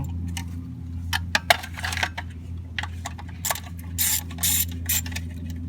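A hand ratchet clicks in quick irregular bursts while removing quarter-inch bolts from an engine cover on a 307 cubic-inch Cutlass Supreme engine, close and moderately loud, with brief pauses between strokes over a steady low hum.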